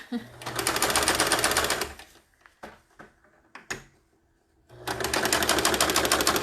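A mechanical sewing machine runs forward in two loud, steady bursts of rapid stitching, with a pause of scattered clicks and small handling knocks between them.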